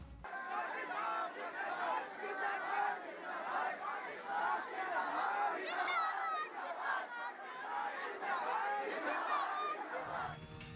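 A large crowd chants slogans at a protest rally in Ujjain, India, a dense, loud mass of overlapping shouting voices that carries steadily for about ten seconds.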